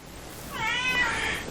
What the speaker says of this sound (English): The cat likes the smell of it too. I don't know if you can hear her, but she's just going crazy.